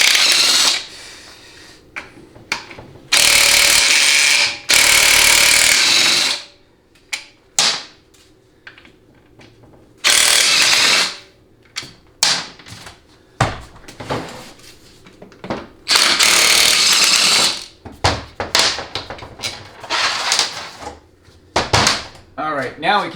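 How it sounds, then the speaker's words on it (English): Repeated loud bursts of a power tool whirring, each lasting a second or two, with metallic clinks and rattles between them, as bolts are removed from a TH350 transmission. "Gotta take the bolts out first."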